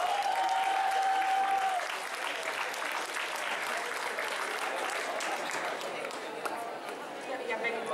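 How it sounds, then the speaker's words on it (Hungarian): Audience applause for the individual winner at a summer cosplay contest awards ceremony, a steady dense clapping crowd filling the whole stretch, with a brief voice or tone near the start. "Egy tapsot szeretnék én az általatok választott legjobb egyéni versenyzőnek."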